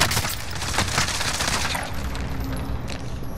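Rapid automatic gunfire in Call of Duty: Warzone rattles loudly in a dense burst for about two seconds, then fades into a softer, distant crackle of shots.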